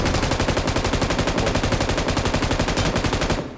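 Sustained rapid automatic gunfire in the mobile battle royale game BGMI, a dense, loud, evenly pulsing burst that runs almost the whole time before cutting off at the end.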